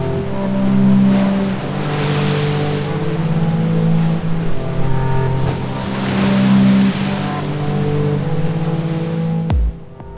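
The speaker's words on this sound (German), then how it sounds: "die Wellen, wie sie in die Buchten rollen und gegen die Felsen prallen, waren schon ein beeindruckendes Naturschauspiel" Sea waves roll into a Sicilian bay and break against rocks in winter, making a loud, close, surging roar that swells and fades over about ten seconds under a steady low drone.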